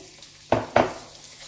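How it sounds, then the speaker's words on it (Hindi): Semolina and cardamom pods roasting in a pan over a medium flame, heard as two quick, close scraping stir strokes with a brief sizzle and a quiet pause between them. "अब सूजी को भूनेंगे। इसमें ये इलायचियां ये भी डाल देंगे।"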